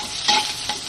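Garlic and onion sauté in hot oil for ginataang langka, a steady close sizzle with two brief louder stirring scrapes over the frying.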